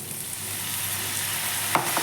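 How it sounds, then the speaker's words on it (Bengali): Food fries on high flame in a pan, a steady close sizzling hiss with a couple of brief stirring scrapes near the end and no talking. "এটা নরম হতে দেওয়া যাবে না এটা ক্রাঞ্চি ক্রাঞ্চি থাকবে তাই আমরা এটা হাই ফ্লেমে ভেজে নেব"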